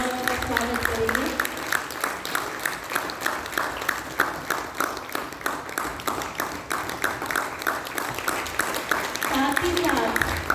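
A live audience claps steadily for about ten seconds to welcome two spiritual sisters onto the stage at a Brahma Kumaris gathering, a dense, even applause with some voices mixed in.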